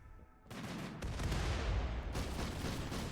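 Enemy gunfire in the video game RimWorld, a dense crackling barrage that starts abruptly and keeps up a rough, continuous roar of shots, loud and close with no talking.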